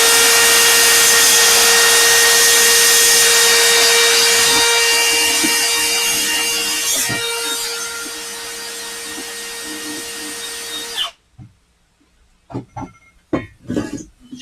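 Wire wheel brushing stainless steel welds on an exhaust header for a Mazda Protege5 KLDE swap: a loud, steady whirring scrape that fades over about eleven seconds and cuts off, followed by a few brief clanks and knocks.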